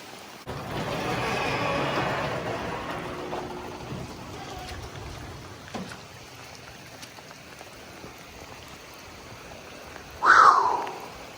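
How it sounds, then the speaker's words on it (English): Rain falling on a farm near a chicken coop, a soft steady hiss of drops that swells early then settles into a faint patter, with a short louder burst near the end. "Oh, here comes the rain."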